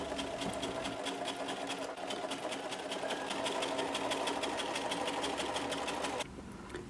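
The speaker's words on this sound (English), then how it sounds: "we're just gonna run it through and top stitch along the t-shirt side of the whole neckline." Sewing machine top stitching along the tee-shirt side of a knit tee's neckline binding, a steady, fast, loud mechanical whir with even stitch ticking that runs about six seconds and then drops to quieter motor hum.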